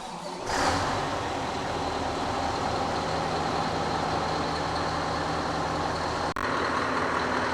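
A Scania V8 R620 truck, just after a full engine service, drives on a road test; a steady low engine drone and road rumble continue throughout with one brief dropout, no talking.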